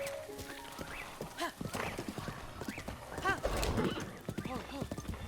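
Horse neighing and clip-clopping hooves in Zelda: Breath of the Wild, several whinnies with steady hoofbeats throughout, under game sounds and some speech-like vocal noise.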